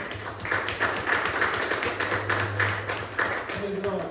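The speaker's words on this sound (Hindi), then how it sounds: "यीशु के नाम में तालियां हो जाए दुआ" A church congregation at a Sunday service claps in a steady rhythmic beat, with a low sustained tone and voices mixed in underneath.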